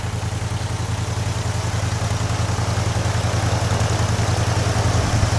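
A Generac generator engine fitted with a new header and muffler runs at a steady idle, a close, even low thrum with a fast regular pulse that holds throughout and grows slightly louder toward the end.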